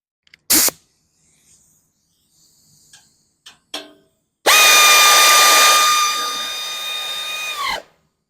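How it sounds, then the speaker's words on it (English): An air ratchet tightening bolts with a 6mm Allen socket while a Rankin fertilizer spreader is assembled: a few sharp clicks and knocks, then a loud, steady whirring buzz for about three seconds, close up and alone. "We will be using the air ratchet."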